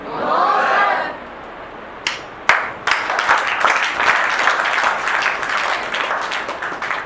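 Students at a stress-management workshop for class ten and twelve clap sparsely and unevenly at first, a few scattered hand claps that then swell into thin, uneven group clapping in a room.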